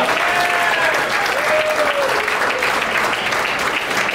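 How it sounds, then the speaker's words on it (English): An audience at a magic show claps steadily. The applause is dense and continuous, with a few faint vocal whistles or calls over it, then eases slightly toward the end. "The audience is going to go applaud for you."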